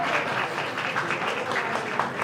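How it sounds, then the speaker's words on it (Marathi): A crowd claps loudly and steadily at a baby's naming ceremony, a dense, continuous burst of applause close by that holds throughout. "मग जोरदार टाळ्या होऊन जाऊ द्या"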